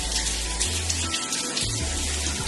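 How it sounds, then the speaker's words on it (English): Running tap water while hands are rinsed at a sink, a steady close rushing splash with a low rumble, continuous and loud throughout without speech. "I'm gonna rinse my hands real quick."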